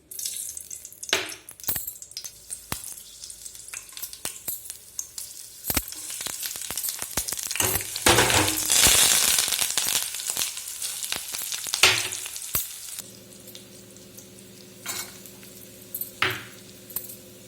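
Oil and ghee sizzle and crackle in a pan while tempering for oats pongal, a steady frying hiss that swells loudest in the middle, with scattered clinks of stirring and a faint hum later on.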